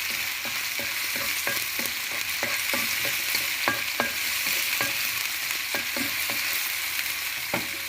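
Mixed vegetables for spring rolls stir-fried in a pan, a steady sizzle with repeated scraping and clacking strokes of a spatula at an uneven rhythm, close and continuous without talk.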